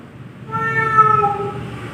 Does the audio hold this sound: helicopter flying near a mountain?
no